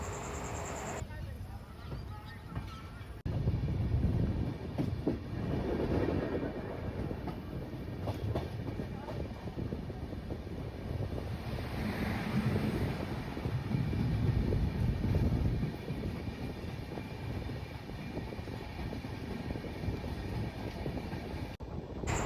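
Lucknow–Patliputra superfast express train, number 12530, rolling steadily along the rails with a continuous rumbling clatter and wind noise, heard from on board.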